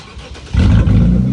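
A motorcycle fitted with a full straight pipe exhaust fires up about halfway through, going from quiet to a loud, close, throaty roar that stays strong and rough to the end.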